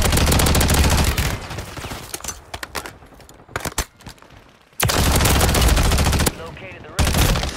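Gunfire rings out in Call of Duty: Warzone on Rebirth Island, with dense bursts of rapid automatic shots in loud stretches broken by quieter gaps, followed by another heavy burst and a final volley.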